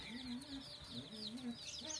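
A hen clucks softly in a repeating pattern while foraging outdoors with her small chicks, the calls steady and close, with faint high chick peeps above.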